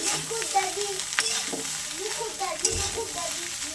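Meat frying hard over raised heat for spicy braised kosha mangsho, a steady close sizzle with stirring scrapes and clinks running throughout, no voices.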